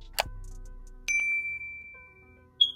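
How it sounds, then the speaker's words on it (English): A short bright notification ding sounds from a clothing try-on haul, with a faint tick first, then a clear ringing tone that sustains for about a second, and a second quick chime at the end. "turn on your notification bell"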